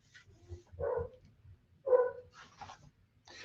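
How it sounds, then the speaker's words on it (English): A dog gives two short, faint barks some distance away, heard indoors over a quiet low background. "If you hear a dog barking,"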